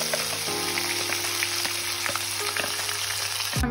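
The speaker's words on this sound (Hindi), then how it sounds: "मसाला हमारा जलना नहीं चाहिए, लगना नहीं चाहिए, इसको चलाते रहें बार बार।" Ground masala paste sizzles steadily in oil in a pan for a Punjabi rajma masala, with a constant dense frying hiss and occasional scraping stir strokes, close and fairly loud, ending in a sharp clatter.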